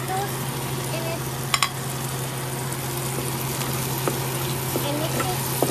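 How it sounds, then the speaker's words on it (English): Tomatoes go into a hot pan of potato and cauliflower aloo gobi, raising a steady, even sizzle with a few clacks of utensils along the way. "now we'll add tomatoes in it"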